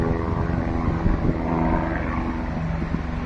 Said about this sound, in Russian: Слушайте вертолет, сейчас мы его найдем.